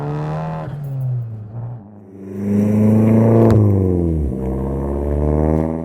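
A turbocharged Fiat 500 Sport Turbo engine idles, then revs up loudly in a sustained rising roar with a steady harmonic drone, held close to the microphone.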